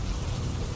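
Rain falling during flooding in Valsad, Gujarat, a brief, steady broadband hiss of heavy downpour with no voices.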